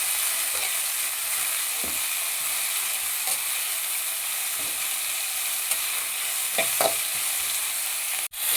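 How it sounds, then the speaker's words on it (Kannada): Coriander and mint leaves sizzle steadily in hot oil for a vegetable biryani, a loud continuous frying hiss broken by occasional scraping stirs of a spoon, close by with no talking. "ಚೆನ್ನಾಗಿ ಹುರಿದುಕೊಳ್ಳೋಣ"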